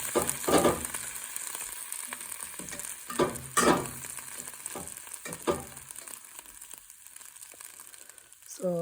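Moringa greens fry in a pan with a continuous sizzle, broken by a few louder crackling bursts as the leaves are stirred.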